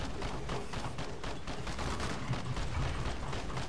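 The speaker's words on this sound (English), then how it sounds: "for the massive explosions that seem to have saved my life" Video game Killing Floor combat rattles with rapid bursts of gunfire and explosive blasts, a dense, continuous barrage at moderate loudness with no talk over it.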